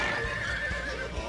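A horse whinnies loudly in The Bible Game, a PlayStation 2 game, with a sustained neigh and faint hoof clip-clops beneath it, alone without talk.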